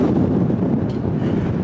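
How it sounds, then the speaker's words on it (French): Strong wind buffets the microphone on a seaside golf links at Ardglass, a steady loud roar of gusts rumbling continuously with no talk. "il commence à avoir beaucoup de vent"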